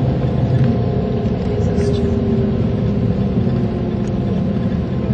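Interior of a coach cruising on a road toward Cambridge, with a steady low engine drone and road rumble that stays loud and unbroken throughout.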